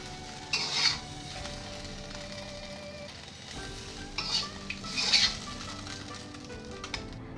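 Stir-fried tofu, green beans and egg being moved in a pan and plated at home, with a soft steady sizzle underneath and a few louder scraping clinks of a utensil against the pan near the start and middle.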